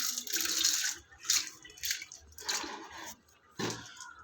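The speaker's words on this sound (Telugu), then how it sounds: "ఇప్పుడు వాటర్ వేస్తూ మంచిగా గ్రౌండ్ కేసి బాగా రాయాలి." Water poured over stones while they are scrubbed hard against the ground to clean off sticky residue, producing soft irregular splashes, drips and wet squishing strokes in short bursts, fairly quiet and close.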